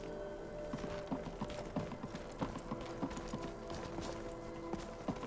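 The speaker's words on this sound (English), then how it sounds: "I don't know about your horse following us everywhere" Horse hooves clip-clopping steadily in Skyrim, a rhythmic run of close, fairly quiet hoofbeats over a constant background hum of game ambience.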